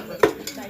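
A cooking pot clangs twice during a game, a sharp metallic hit followed by a softer second knock about a quarter second later, close and brief.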